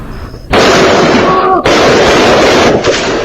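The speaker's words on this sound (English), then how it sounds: "What you just saw, a man shot multiple times at point blank." Gunshots fired at point blank range into a man at a gas station at night, heard as loud, harsh blasts that saturate the recording, with a brief gap between them.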